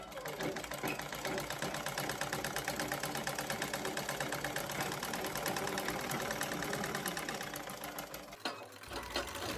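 A domestic sewing machine stitches piping thread into a thin cloth strip, running in a steady fast mechanical whir with rapid needle ticking for several seconds before stopping abruptly near the end.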